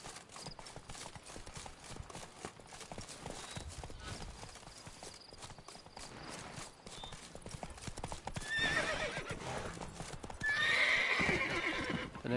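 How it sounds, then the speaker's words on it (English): Wild horses in The Witcher III video game: hooves clip-clopping in a steady rhythm, then loud whinnies and neighs rising near the end, with game ambience underneath. "I'm going to try to mount one of these wild horses."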